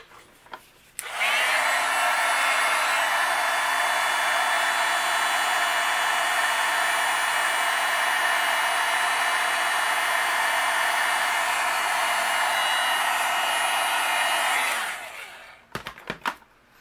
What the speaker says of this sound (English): I'll use my heat gun and we'll melt this